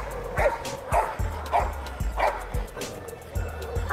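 A Belgian Malinois security dog barks repeatedly in a steady rhythm, sharp yips and woofs close by, about one bark every half second.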